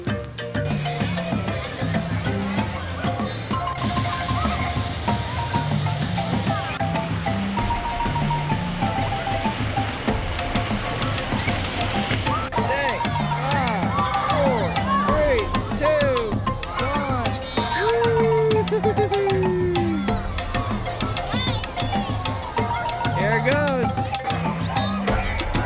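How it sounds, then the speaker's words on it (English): Busy water park wave pool with crashing surf and a steady roar of water, a crowd murmuring and shouting throughout, loud and continuous with people talking over it. "we're heading over to the wave pool to see how crazy it is over there"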